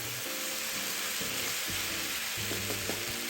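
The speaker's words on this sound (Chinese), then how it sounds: "最后再将汆烫后的腐竹与黑木耳、西兰花全部倒入，大火爆炒后即可离火" Blanched tofu skin, black fungus and broccoli stir-fried on high heat for a homestyle spicy hot pot, a constant dense sizzle filling the clip with a few clinks and scrapes near the end.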